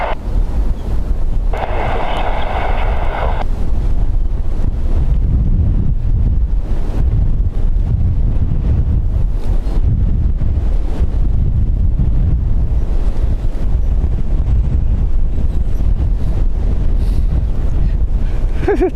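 Strong gusty wind buffets the microphone at Dublin Airport during windy plane-spotting arrivals, a steady loud low roar throughout with a brief higher whine early on.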